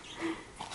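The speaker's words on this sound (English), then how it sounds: "She's my little weenie dog." A dachshund lets out a faint, brief high whimper, a thin short whine over quiet room background.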